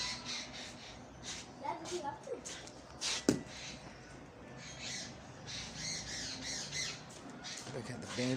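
A bird squawks near its nest, with repeated harsh calls at a moderate distance and a sharp burst near the middle, mixed with people talking over it.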